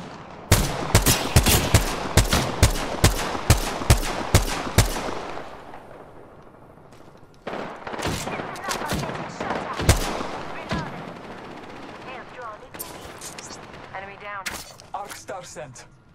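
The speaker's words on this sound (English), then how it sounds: "Shots fired at me." Rapid bursts of gunfire in the video game Apex Legends, a loud run of evenly spaced shots followed by scattered later volleys, with a voice speaking in between.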